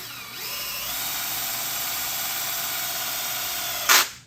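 Power drill running steadily as it spins the oil pump of a Triumph TR6 engine, a sustained high whine that starts up, holds for several seconds and ends with a brief sharp burst, close and alone with no voices.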